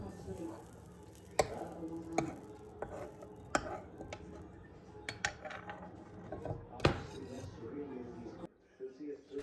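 Spice masala is scraped from a container into a cooking pan in a home kitchen, giving a series of sharp utensil knocks and clinks against metal spaced over several seconds, with someone talking throughout.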